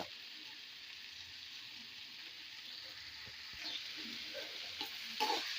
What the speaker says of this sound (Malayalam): ഇതിലേക്ക് നമുക്ക് പച്ചമുളക് ഇട്ട് കൊടുക്കുക, വേപ്പില ഇട്ട് കൊടുക്കുക